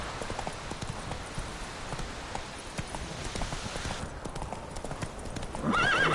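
Roach, a horse in the video game The Witcher 3: Wild Hunt, gallops with a steady, close clip-clop of hooves throughout, and a brief whinny rises near the end.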